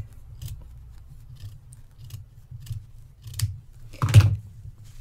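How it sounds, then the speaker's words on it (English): Small scissors snipping black embroidery thread during hand stitching of a Christmas tree heart decoration; a series of quiet, close, crisp snips, with a louder double cut near the end, no talk. "I'm cutting off some of that black."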